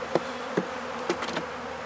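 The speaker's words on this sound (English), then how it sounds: "Other bees are robbing the food." Bees robbing honey inside a failed beehive full of dead bees: a faint, steady insect hum with a few brief buzzing passes of individual bees close by.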